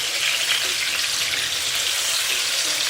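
Round melon (tinda) pieces fry in oil in a pan with a steady, even sizzle that carries on throughout, close and fairly loud, with no talk.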